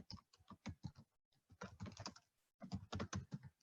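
City names are typed into an Excel spreadsheet on a computer keyboard in quick bursts of close, crisp keystrokes, with short pauses between words and no speech.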